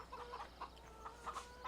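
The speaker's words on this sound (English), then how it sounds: "We've got our chickens just roaming around" Chickens cluck in the Farming Simulator 17 video game, a quick run of short soft clucks in steady bursts, faint and close, over a low hum.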